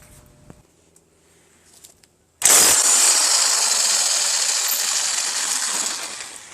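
A sudden loud burst of rattling impact-wrench noise removing the flywheel nut on a Scotts L17.542 lawn tractor cuts in after quiet, holding steady for several seconds before tapering off.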